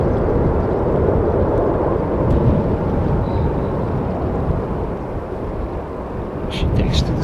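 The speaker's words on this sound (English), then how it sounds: "Smooth takeoff." A Delta Airbus A330 takes off at Amsterdam Schiphol with a loud, continuous low jet roar and rumble that holds steady throughout, mixed with some wind buffeting.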